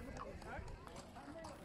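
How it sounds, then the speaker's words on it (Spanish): Horses walk on pavement while herding hundreds of goats along a road in Illapel, Chile, during seasonal transhumance. Their hooves clop in an irregular rhythm at moderate distance, and a voice talks over them throughout. "cientos de cabras comienzan a avanzar por el pavimento arriadas a caballo"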